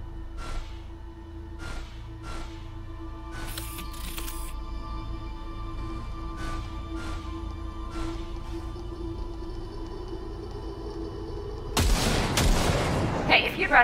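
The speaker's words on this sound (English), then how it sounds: "Single shot." A single rifle shot during weapon calibration in Cyberpunk 2077 lands as a loud, dense blast near the end, after a long stretch of steady humming tones and faint ticks.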